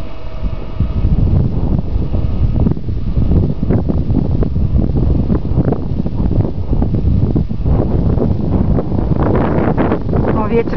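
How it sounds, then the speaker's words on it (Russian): Gusting wind buffets the microphone outdoors at a radio-controlled plane flight, low rumbling roar, steady throughout, with some faint voices underneath. "Ветер поднялся, Саш, между прочим."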